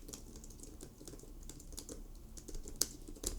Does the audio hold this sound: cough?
no